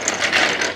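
Brief burst of rapid ratcheting clicks from a jack lifting an Ariens lawn tractor, close and continuous with slight swells in loudness, no talking.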